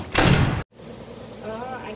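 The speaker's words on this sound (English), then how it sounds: "Close the door!" A door slams shut in a FNAF-style horror game, a short loud impact that cuts to sudden silence, followed by low ambient hum and faint tones.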